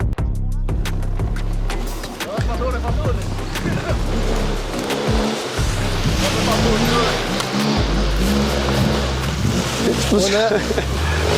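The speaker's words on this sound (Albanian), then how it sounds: "Zhurma e motorëve" Enduro motorcycles ride a steep mountain track near Kaçanik, engines revving and whining loudly and continuously as several bikes pass close, with harsh throttle bursts and a speaking voice mixed into the roar.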